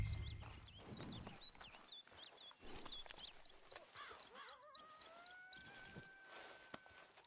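Horse hooves clip-clopping at a slow walk in Red Dead Redemption 2, soft and fairly faint steps mixed with birdsong in a quiet outdoor setting.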